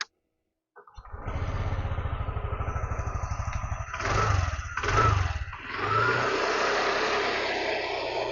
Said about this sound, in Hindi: मैं एक बार आपको गाड़ी का जो है साइलेंसर एक बार स्टार्ट करता है, एग्जॉस्ट साउंड कैसा एक बार सुन लेना